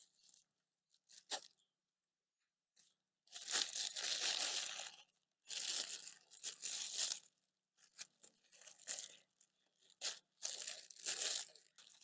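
Scissors slice through a plastic bag in several bursts of crisp crinkling and tearing, close and fairly loud, with short quiet gaps between cuts and no talking.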